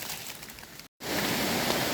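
Steady rain hiss in a forest during mushroom picking, a broad continuous wash that cuts out briefly near the middle and returns louder, with no talk.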